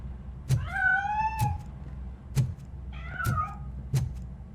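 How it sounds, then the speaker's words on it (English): Cat meows twice in the RoboCop: Rogue City game, drawn-out rising cries near and clear over a low hum, punctuated by several sharp regular clicks or thumps. "That cat must be hiding inside."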